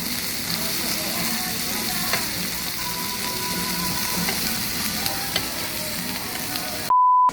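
Beef tripe (makchang) sizzling steadily on a restaurant grill, a dense continuous crackle and hiss close up, with faint clinks and a short beep near the end.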